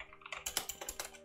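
A rapid run of light, close keystrokes on a computer keyboard, quiet and evenly paced, with no voice over them.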